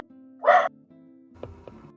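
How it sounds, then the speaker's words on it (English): A dog lets out a single sharp, fairly loud bark, followed by a couple of softer yips and whimpers, over a faint steady hum in an otherwise quiet room. "Let me see what Jax is barking at."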